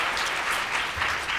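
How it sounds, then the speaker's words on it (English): Audience applause for speakers at a student community-action event, a steady dense clapping that fills the whole short moment evenly with no voices. "could we give a round of applause to these great speakers"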